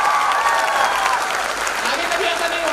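Dense applause from an audience filling a hall at a recognition program, steady and loud for the whole stretch with no break, some faint voices mixed in beneath the clapping.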